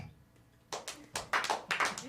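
Audience members at a live comedy showcase in the Manhattan Center clapping their hands, a few scattered bursts of applause building over about a second and a half, with no one speaking.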